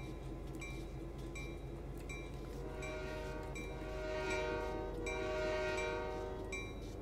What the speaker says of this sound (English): Sounds like a default trains simulator horn.